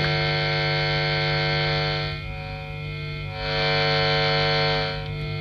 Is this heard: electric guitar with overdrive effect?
yes